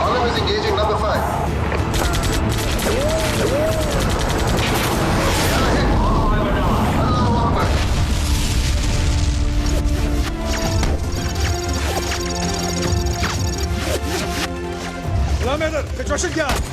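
Heavy battlefield gunfire in a 1965 India–Pakistan war scene, with loud crashing blasts and rapid impacts throughout, mixed with shouting voices and dense noise.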